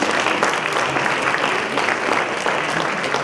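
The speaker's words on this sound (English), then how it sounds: "A big round of applause." Audience applause at a gala night fills the clip, a dense, steady patter of clapping at even loudness throughout, with no voices over it.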